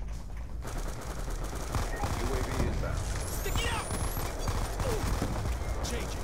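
An SMG fires rapidly in Black Ops 2 on PC in dense, continuous bursts of gunfire. A voice talks over the shooting throughout.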